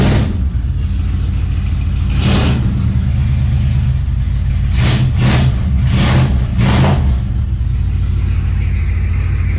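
A Dodge car engine idles with a deep, steady rumble, then revs sharply once and again in a quick burst of several throttle blips; the exhaust may be leaking.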